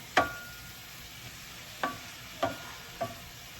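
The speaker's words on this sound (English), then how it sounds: "I'm gonna just mix it." Food being mixed by hand in a bowl during prep: four quiet, separate scraping knocks spaced about half a second to over a second apart, with no talking.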